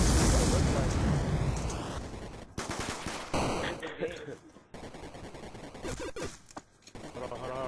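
Gunfire in Black Ops 2 on the Nuketown map: a loud opening burst fades, followed by choppy intermittent shots and clatter, with players talking over it.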